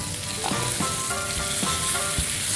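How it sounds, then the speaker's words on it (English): Garlic butter chicken bites fry in a hot pan with a steady, loud sizzle, broken by a few soft stirring scrapes and spatters throughout. "The sizzle is back."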